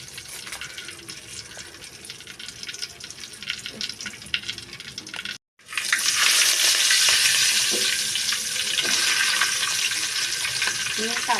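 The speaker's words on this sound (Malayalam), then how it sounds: "നമ്മളിതേ അരിഞ്ഞു വെച്ചിരിക്കുന്ന സവാളയൊക്കെ വാട്ടാൻ പോവുകയാണ്" Chopped onions sizzle and crackle loudly in hot oil in a pan for a cauliflower curry, quieter at first and then a fuller, steady fry after a brief gap.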